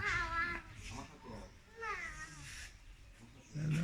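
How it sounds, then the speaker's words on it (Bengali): A fishing cat gives several harsh, wavering yowls and growls in short bursts, fairly faint and somewhat distant. "এটা কি মেসো বিড়াল? Fishing cat."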